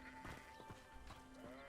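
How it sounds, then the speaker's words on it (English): Goats or sheep bleat faintly in the Hogwarts Legacy video game, a few wavering calls repeating over a low ambient game background. "Looks like I got some goats or sheep or something."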